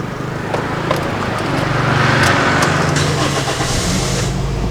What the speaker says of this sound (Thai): เดี๋ยวเราไปลองกันนะฮะเดี๋ยวผมจะขับรถรอบๆดูฮะ